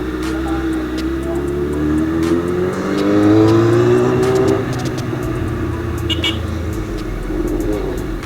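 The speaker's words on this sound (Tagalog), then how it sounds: "Malakas pa yung tambutso ko sa busina." A motorcycle exhaust drones steadily while riding through weekday-style city traffic, with engine tones rising and falling as the throttle changes and surrounding road noise close by throughout.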